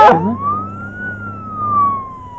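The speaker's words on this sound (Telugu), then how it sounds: "అది పోలీస్ వ్యాన్ కదరా అంబులెన్స్" A police van's single wailing siren tone rises slowly and falls again, loud and steady, with a low engine rumble underneath and a brief clatter at the start.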